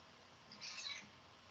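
A cat gives one faint, high-pitched meow over steady background hiss, brief and somewhat distant, with no talking.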